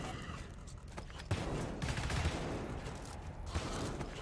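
Continuous PDW gunfire in the shooter game GTFO, a dense, steady stream of rapid shots with a few heavier thumps, held at moderate loudness throughout with no clear gaps.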